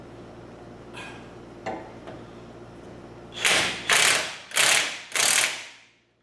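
A ratchet wrench works the front brake caliper bolts on a 2020 Chevrolet Traverse, a few faint clicks followed by four loud, evenly spaced ratcheting pulls up close.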